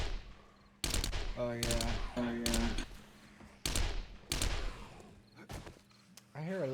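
Bursts of rifle and gun fire traded back and forth in the survival game 7 Days to Die, loud separated volleys with pauses between them, and a brief spoken remark.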